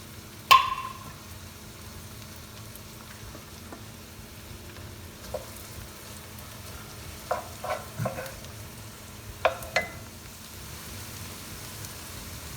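Chopped onions frying in a pan for chana masala give a soft, steady low sizzle. Scattered scrapes and clicks of stirring sound through it, with a sharp knock near the start.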